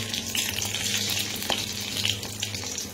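Nigella seeds and dried red chilli fry in hot oil, giving a steady close sizzle with a low crackle running through it, fairly loud and even for the whole stretch, with no one speaking.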